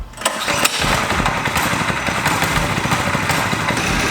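A small mini bike engine catches and runs, a brief cranking start giving way to a loud, steady, buzzing rattle close by that holds on without a break.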